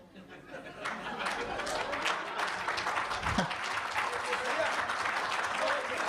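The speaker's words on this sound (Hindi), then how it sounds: "दूसरी जो समझ जाएंगे वो तालियां बजा देना" Audience applause at a Hindi hasya kavi sammelan comedy poetry show, a broad sustained wash of clapping that builds and holds, with crowd chatter and some laughter mixed in.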